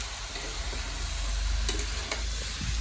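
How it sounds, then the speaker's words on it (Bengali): Meat fries in a pan with spices and is stirred, giving a constant close sizzle with a few brief scraping knocks from the stirring and no voices. "তারপরে মাংসটাকে আবার আলাদা করে ভাজছে"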